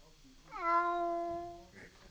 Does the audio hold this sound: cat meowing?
yes